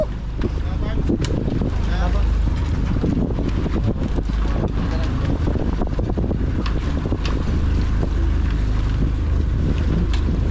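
A boat engine runs steadily throughout, heavily masked by loud wind buffeting the microphone and by faint background voices.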